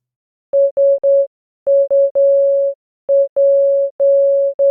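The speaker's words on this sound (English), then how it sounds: "let's try tweaking the attack curve a little so that it starts out rising more rapidly, which will hopefully add a bit of punch to the sound" Electronic additive-synthesis tones with a fast-rising attack sound as a clean, steady pitched beep pattern: short blips and longer held notes in irregular groups, loud and alone.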